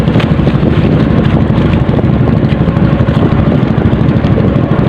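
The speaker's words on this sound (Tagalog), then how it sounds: "mahangin pa rin pero hindi nakatulad nung mga nakaraang araw" Strong wind at sea buffets the microphone with a loud, constant roar, while a low boat engine rumble runs underneath without a break.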